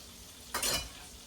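Butter, shallots and onion hitting a hot pan for garlic Parmesan chicken spaghetti, a short burst of sizzle and stirring that rises suddenly then settles to a low fry.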